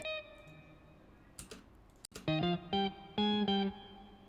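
Slow guitar notes ring out in separate plucks, a higher line joined by a lower octave, each note sustaining briefly before the next, with no talking.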